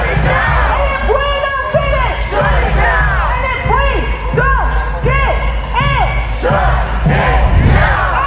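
A large crowd of protesters in the streets of the United States shouts and chants against Donald Trump and war with Iran, with loud, continuous overlapping voices rising and falling throughout.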